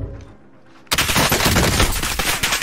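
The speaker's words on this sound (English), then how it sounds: "Receiving hostile fire." Sudden burst of rapid hostile gunfire in a video game, loud and sustained automatic shots erupting after a quiet moment and continuing to the end.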